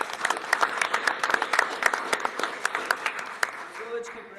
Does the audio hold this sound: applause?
yes